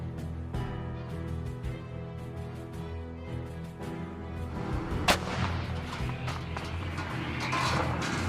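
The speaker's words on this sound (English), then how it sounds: "the Belarusians began throwing bagloads of grenades at the Russian Wagner troops before opening fire with their rifles" Troops fire rifles in battle: scattered, distant-sounding shots crack at irregular intervals over a dense, steady background, with one sharper report standing out.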